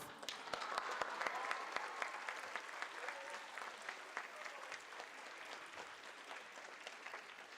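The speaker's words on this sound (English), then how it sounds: "Thank you for applauding life." At an FCCLA conference, a large audience applauds, the clapping strongest at first with sharp individual claps standing out, then gradually thinning and fading as it carries on.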